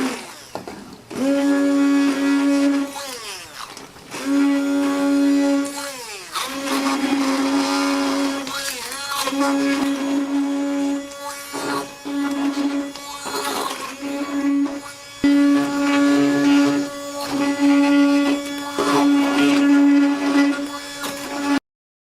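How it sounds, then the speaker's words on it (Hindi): A hand blender purees roasted fish curry gravy paste for a Rohu fish korma, giving a loud, close motor whine that runs steadily with several short stops and shifts in pitch as the blade works through the paste. "थोड़ा सा भूनकर मैं इसे हैंड ब्लेंडर की हेल्प से इसका पेस्ट बना रही हूँ।"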